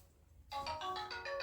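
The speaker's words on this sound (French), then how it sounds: "On va voir c'est qui sonne mon téléphone." Mobile phone ringtone starts abruptly after a quiet moment, bright repeating electronic chime pattern, close and moderately loud, with no one speaking.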